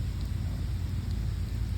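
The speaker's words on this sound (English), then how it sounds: "The rain is coming." Steady outdoor rain hisses loudly and evenly with a deep low rumble underneath, a constant wash of sound without pauses or talking.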